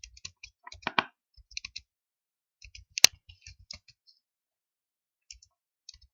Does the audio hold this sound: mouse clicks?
yes